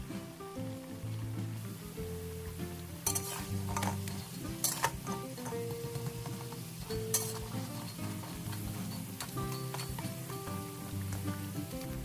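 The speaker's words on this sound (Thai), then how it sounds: "น้ำมันร้อนใส่เผือก ลงไปทอดเลยค่ะ" Steady sizzling of taro frying in hot oil, with occasional clinks of a utensil against the pan; no voices.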